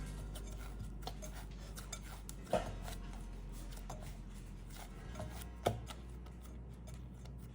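Dumpling dough for pan-fried dumplings is kneaded in a bowl: soft, quiet rubbing and pressing with two sharper knocks against the bowl, close by, no talking.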